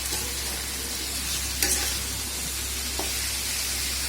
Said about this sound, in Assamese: ধুনীয়াকৈ পিঁয়াজ তেলত লৰাই অলপ ভাজি ল'ম হাই ফ্লেমত